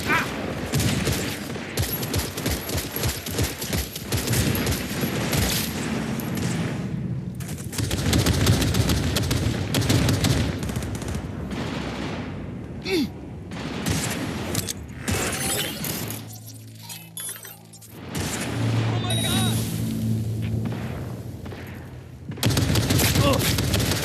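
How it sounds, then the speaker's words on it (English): Gunfire in the video game Cyberpunk: dense, continuous volleys of shots and shattering impacts for most of the stretch, loud and chaotic, easing briefly near the middle before resuming, with game voices mixed in. "Who are you shooting at?"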